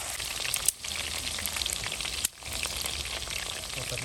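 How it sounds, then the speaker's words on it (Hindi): Coated chicken pieces frying in hot oil for a chicken Manchurian, a steady close, loud sizzle throughout with two brief dips where the crackle drops out, no voices. "ये रेडी चिकन हमने कोटिंग की है, इसको डाल दिया फ्राई में, ऑयल में बस फ्राई हो रहा है"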